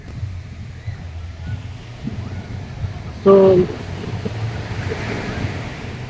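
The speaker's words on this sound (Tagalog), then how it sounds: "ang lalaki ng kanyang mga alon" Big ocean waves at Siargao wash steadily onto the shore in a constant roar with wind noise, and a brief burst of speech cuts in partway through.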